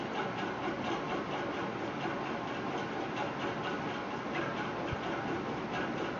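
Domestic sewing machine stitching a small fabric dress, running steadily in a dense, continuous mechanical whir with a fast rhythmic ticking, close and even throughout without any talk.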